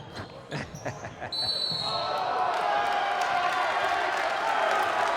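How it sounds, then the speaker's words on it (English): A high school varsity boys basketball crowd at an Oregon versus Baraboo game erupts after a block, swelling into a loud, sustained roar of cheering that fills the gym after a brief stretch of court noise. "Crowd liked the block. They certainly liked it."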